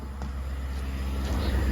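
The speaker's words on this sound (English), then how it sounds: "my truck's not revved up. Well, I guess actually it is. It's doing a regen." Diesel truck engine revving steadily during a regeneration cycle on a foggy morning, a continuous low idle-to-elevated rumble held throughout at moderate level with no talk over it.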